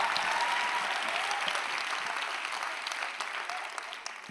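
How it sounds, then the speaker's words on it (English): An audience at a Juice Plus Game Plan conference session gives a round of applause, a dense, even wash of clapping from a large room that gradually thins toward the end. "Give her a round of applause."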